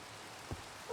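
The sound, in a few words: rain sound in Minecraft video game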